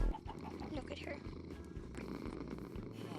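A tamed cat in Minecraft purrs in a soft, continuous rumble, with a person talking over it throughout.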